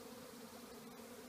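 Honey bees fly around an open hive during a move from a nuc box into a deep, a faint, steady droning buzz of many wings with no voices.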